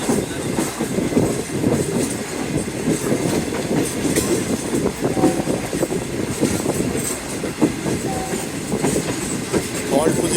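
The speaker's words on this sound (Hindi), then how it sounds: "मेहरान एक्सप्रेस अप्रोच कर रही है जी, जस्ट बिफोर लांडी।" Mehran Express passenger train, led by an HGM U30 locomotive, drawing near just before Landhi, with a steady loud rumble and clatter of wheels on rail throughout, voices faintly mixed in.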